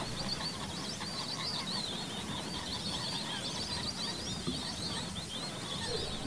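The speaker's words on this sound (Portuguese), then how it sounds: "E o primeiro bando apareceu, um bando de irerês." A flock of white-faced whistling ducks on a lagoon, a dense, continuous chorus of high whistling calls with a steady wash of background sound.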